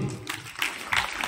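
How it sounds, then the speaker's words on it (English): A school audience at an investiture ceremony claps for a student receiving a Medal of Excellence, a short burst of dense, close applause that swells toward the end. "we clap for him"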